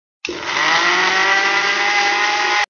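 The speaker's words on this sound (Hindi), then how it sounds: "मिक्सी में डालकर थोड़े से पानी के साथ पीस लीजिए" A mixer grinder blending onions with a little water whirs loudly and steadily for about two seconds, starting abruptly and cutting off sharply, with no talking.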